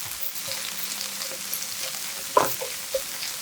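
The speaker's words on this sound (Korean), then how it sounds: "맛술 1스푼, 후추 약간 넣고 골고루 저어 간이 고루배게 해주고" Shiitake mushrooms seasoned with mirin and black pepper are stirred in a hot pan, giving a steady soft sizzle with a sharper utensil scrape partway through and a lighter one near the end.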